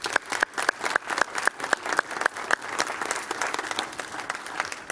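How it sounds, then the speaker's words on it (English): A city council meeting audience breaks into applause. Distinct individual claps stand out in a rhythmic pattern at first, then blend into a fuller, denser round of clapping close by. "So let's have a round of applause for that."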